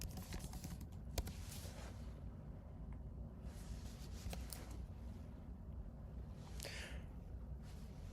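Quiet, steady clicking of typing on a computer keyboard, light keystrokes running continuously at close range with no voices.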